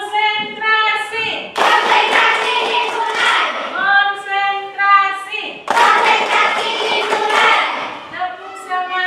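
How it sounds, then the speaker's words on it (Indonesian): Schoolchildren in a classroom clap together in a rhythmic spirit-clap routine, two loud bursts of quick unison claps separated by sung or chanted voices. "Tepuk semangat."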